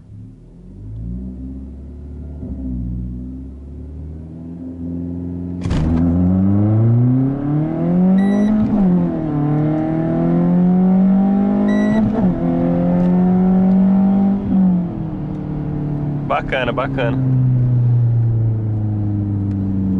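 A Renault Sandero RS 150cv accelerating hard in a 0-100 test, close engine revs climbing through gears with clear upshift drops and a brief beep, loud and continuous; someone briefly speaks.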